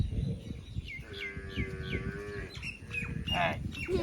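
A water buffalo lets out a long, low moo nearby while small birds chirp and tweet in the background.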